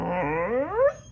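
A dog gives a drawn-out whining vocalization that bends upward in pitch like a spoken word, a single clear close sound lasting about a second.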